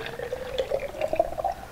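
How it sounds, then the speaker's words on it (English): Homemade salad dressing gurgles and trickles as it is poured into a small shaker bottle, a soft, close, wet pouring sound lasting a couple of seconds. "we're just going to pour it into this little shaker"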